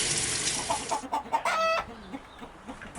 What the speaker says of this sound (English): I need to herd the chickens back in the coop